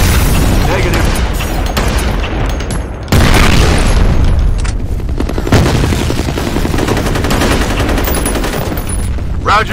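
Grenade explosion in the F.E.A.R. Combat shooter, set amid heavy, continuous gunfire and loud booming blasts, with shouted radio-style voices mixed in throughout.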